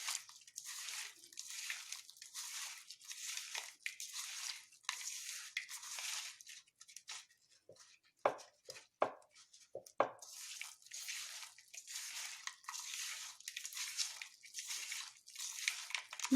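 A hand squeezes and breaks jaggery lumps in coconut milk, producing a continuous series of soft wet squishing and crunching sounds with a few sharper crackles, close and steady, no voices.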